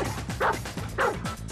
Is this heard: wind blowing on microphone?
no